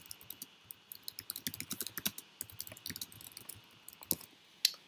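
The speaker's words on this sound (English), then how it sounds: "put our cursor in the title field and start typing the name of the record" Fingers type a record name into a title field in library software on a computer keyboard, producing rapid, uneven bursts of crisp key clicks up close in a quiet room, with no talking.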